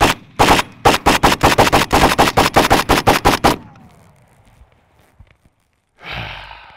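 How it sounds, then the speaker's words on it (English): Real guns firing outdoors, a quick string of loud sharp shots in a fast, steady rhythm that stops abruptly, followed by near silence and then a soft breathy exhale. "At least I'm shooting straight."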